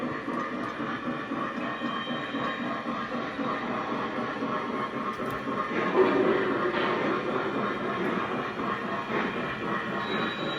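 A Lionel Santa Fe model freight train rumbles continuously along its track with a steady rattling hum and faint clicking wheels, close by, with no talk.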